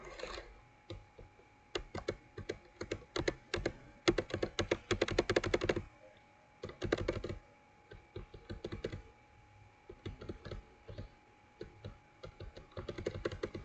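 Quick bursts of clicky typing on a computer keyboard, close and fairly quiet, with short pauses between runs of keystrokes and isolated single taps.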